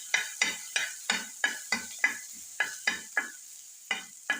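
Garlic being stir-fried in a pan for raita: a spatula scrapes the pan in a quick, regular series of about a dozen strokes, each with a short sizzle, heard close and alone.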